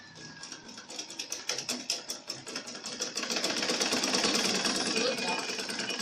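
A sewing machine stitches a seam on an A-line skirt with a dense, steady mechanical whir. It starts with uneven bursts, then settles into a louder continuous run from about the midpoint.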